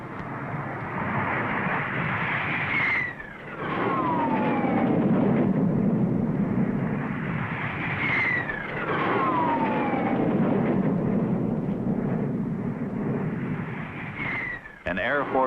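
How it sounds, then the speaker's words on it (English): Military jet aircraft roar overhead at the 1959 Daytona 500 in repeated waves, each pass rising to a loud rumbling whoosh then falling away, with a voice talking over the noise. "An Air Force salute of speed booming across 450 acres."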